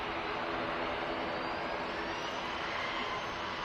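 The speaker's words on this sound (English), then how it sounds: "EasyJet A319 next to arrive" An EasyJet Airbus A319 airliner arriving, its jet engines a steady, loud, broadband roar that holds evenly throughout with no voices.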